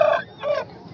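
An Aseel rooster at a poultry market gives two short, close clucks in quick succession with a brief pause between them.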